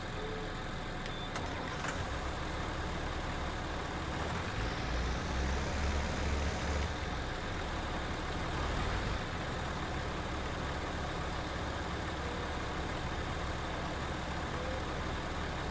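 Tractor engine in the Farming Simulator 19 video game, a steady low rumbling drone that swells briefly in the middle, running continuously and fairly loud with no talk.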